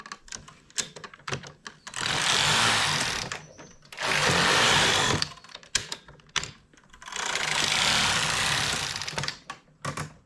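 A knitting machine with ribber works a hat band in alternating needle setup, the carriage sliding across in three loud rushing passes with clicks and clacks of handling between them.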